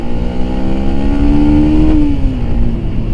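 A motorcycle fitted with a racing exhaust revs hard to overtake, its loud, close engine drone climbing in pitch for about two seconds before easing back down.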